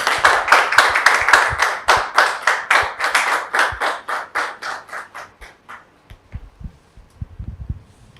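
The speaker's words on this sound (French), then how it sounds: "Merci de recevoir notre invité, un frère, sous vos applaudissements, s'il vous plaît." Applause from an audience welcoming a guest onto a talk-show stage: a run of loud, evenly spaced claps that gradually thin out and fade, ending in scattered softer taps and faint background noise.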